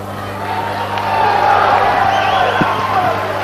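A karate tournament crowd cheers and roars in a large hall, a sustained swelling wall of voices with whoops and shouts building toward the middle, with a bounce or slam heard faintly through it.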